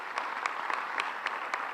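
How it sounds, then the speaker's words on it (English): A crowd at a charter school ribbon cutting in Mattapan, Boston claps steadily, dense applause with a few sharper claps standing out in a loose rhythm. "I would love to give the community a big round of applause"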